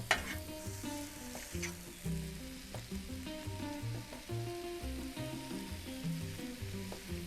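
Shrimp fried rice cooks in a pan with a soft, steady sizzle and occasional stirring taps, fairly quiet, alongside a gentle tonal background of music.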